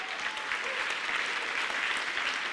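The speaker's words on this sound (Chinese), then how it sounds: "我们的儿童诗班请起立，我们帮他们做点掌声" A church congregation applauds a children's choir at a Christmas praise service, steady dense clapping from many hands filling the room without pause.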